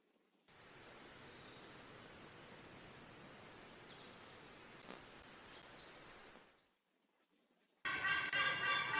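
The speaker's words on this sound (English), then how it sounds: "Hummingbird." A high, thin bird call repeated about a dozen times in a steady rhythm, fairly close and clear, followed by a brief pause and a buzzier burst.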